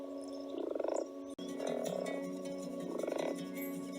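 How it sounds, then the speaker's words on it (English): A male frog calls to a female with loud, pulsing, rapid croaking trills, two bursts separated by a short pause. "a daddy frog has to call to the mommy frog"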